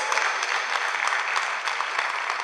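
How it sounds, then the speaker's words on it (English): Dense, steady applause from a large conference audience at an in-person opening plenary fills the room at full volume for the whole stretch, with no pauses. "Yeah, come on, clap it up."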